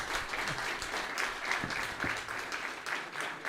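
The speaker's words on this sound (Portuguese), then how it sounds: "Bom, salva de palmas." A church congregation claps steadily, a sustained round of applause that stays fairly even in loudness from start to finish.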